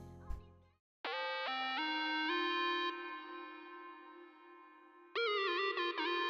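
A bright electronic synth plays a simple sustained melody in an FL Studio type beat, with a few stepped pitch changes and a held tone. A brief low thump comes first, and a higher phrase enters near the end, all fairly quiet.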